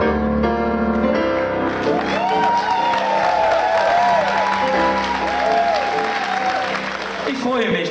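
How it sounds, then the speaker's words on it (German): A crowd applauds and cheers loudly at a marksmen's festival crowning of the new royal couples in Stahle, with sustained clapping and scattered whoops filling the whole stretch, while music plays along underneath. "und dann dürfen wir noch einmal jubeln"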